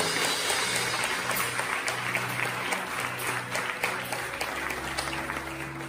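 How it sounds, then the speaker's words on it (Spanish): Church congregation applauding together after a sermon's call to applaud the word, steady dense clapping sustained throughout with sustained musical tones underneath. "Démosle un aplauso a su palabra."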